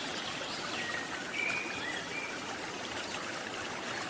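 A river flows with a continuous, steady rush and trickle of water, fairly near and even in level, with no voices.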